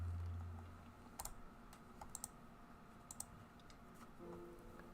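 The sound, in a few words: typing on a keyboard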